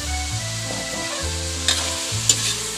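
Pork toppings for laing sizzle steadily in hot oil, close and loud, with a few sharp stirring scrapes of a utensil against the pan.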